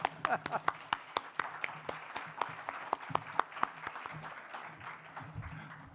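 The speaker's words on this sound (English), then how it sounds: "Someone's going to clap." Audience applause at a climate finance conference in London, a steady patter of many hands clapping with sharp individual claps standing out, filling the whole stretch at moderate volume.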